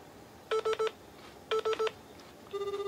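Telephone dialing tones sound as a call is placed: two quick groups of three touch-tone beeps, then a steady pulsing ring tone begins, fairly faint with no talking.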